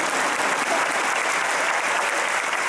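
Large live audience at an arena event in Manila applauding, dense and continuous clapping at full loudness throughout, steady and unbroken, with no speech heard.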